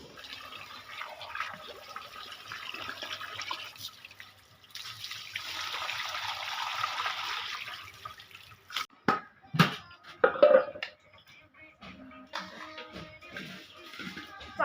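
Rice is washed in water in a Bangladeshi village kitchen: a soft hiss of pouring water, then sloshing and splashing in brief bursts, all faint and close with quiet gaps between.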